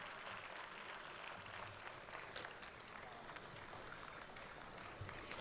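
Sustained audience applause at a Republic Day kavi sammelan and mushaira in Dubai, dense even clapping from a crowd filling the whole stretch.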